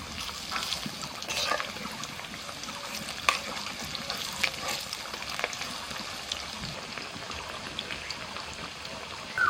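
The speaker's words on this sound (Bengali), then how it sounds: "কড়াইতে সাদা তেল গরম হতে বসিয়ে দিয়েছিলাম এবার পকোড়াগুলো ভেজে নিচ্ছি" Pakoras fry in hot white oil in a wok, giving a soft, steady bubbling sizzle with faint crackles and a few light clinks, fairly quiet and close, with no talk.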